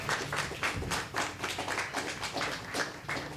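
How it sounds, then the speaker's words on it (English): A crowd claps at a swim meet's closing ceremony, the sound a fairly loud, irregular patter of many hands with rhythmic surges, steady throughout. "round of applause for the ladies"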